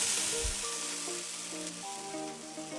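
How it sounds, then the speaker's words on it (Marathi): Water sprinkled onto a hot tawa griddle while cooling it between cabbage thalipeeth flatbreads gives a soft steady hiss and sizzle, close and fairly quiet, with no voices. "थोडासा थंड होण्यासाठी तवा असं पाणी शिंपडून घ्यायचं आहे."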